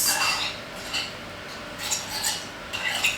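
A utensil stirs a sandwich filling dressed with lemon juice in a bowl, giving a few soft scraping clinks of metal against the dish in bursts over quiet background.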